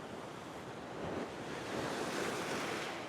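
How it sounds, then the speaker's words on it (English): Ocean waves surging and breaking against coastal rocks at a rock fishing spot, a steady roaring wash that swells louder midway, with wind buffeting the microphone and no talking. "And watch the waves at the same time."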